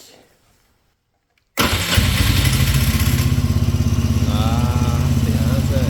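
An ATV engine, just fitted with a tuned air filter and exhaust, catches suddenly after a quiet pause and settles into a loud, steady, throbbing idle up close.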